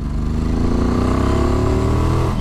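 A 2021 Ducati XDiavel Black Star V-twin engine pulls hard and loud in third gear from 2,500 rpm, its deep pulsing note climbing steadily in pitch as it accelerates.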